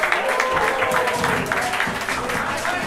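A crowd at a Muay Thai fight, Maldives versus Thailand, cheers and applauds steadily between rounds, a loud dense wash of clapping and shouting with no break.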